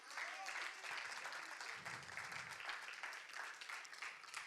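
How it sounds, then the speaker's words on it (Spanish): Applause from a congregation at a Spanish-language evangelical church service, a steady wash of clapping that stays faint and even throughout, with voices mixed in. "dale un aplauso a Dios"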